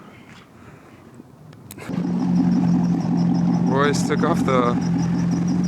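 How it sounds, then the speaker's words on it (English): A Chevrolet C6 Corvette engine cranks and fires after a quiet moment, then settles into a steady, loud idle with a chirping belt, as people talk over it. "Everything's good, so the belt's chirping. So we're gonna have to take a look at that, but other than that, motor sounds healthy."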